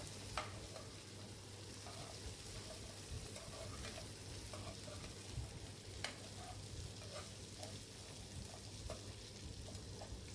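Eggplant pieces are stirred in a hot pan while frying, a steady sizzle with intermittent scraping and stirring clicks running throughout, fairly close and alone.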